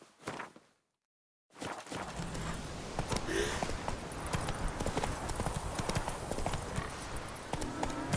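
Horse galloping in The Witcher 3, fast rhythmic hoof clops on the ground that start after a brief silence and continue steadily at close range, with a faint voice near the start.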